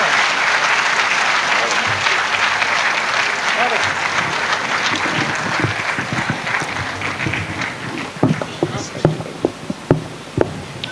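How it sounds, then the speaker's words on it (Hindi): Audience applause at a Hindi comedy poetry show, a dense, loud round of clapping from a large crowd that thins into scattered individual claps toward the end. "अपनी घनघोर तालियों से वैसी तालियों से आमंत्रित करना जैसी तालियां अभी तक इस सदन में बची नहीं"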